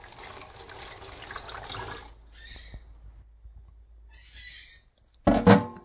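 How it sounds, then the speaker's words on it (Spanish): Water pours from a glass into a pot for boiling plantains, a short splash near 5.3 seconds after quieter running and dripping water sounds in a kitchen. "así vamos a ponerle un vaso de agua."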